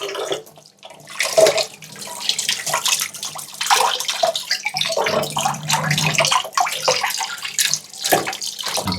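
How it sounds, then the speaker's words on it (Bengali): Cut hilsa fish being washed under a running tap, a steady close splashing water stream with shifting gurgles and sloshes throughout, no talking. "যে কাটা শেষ, এখন একটু ধুয়ে নিতেছি ভালো করে।"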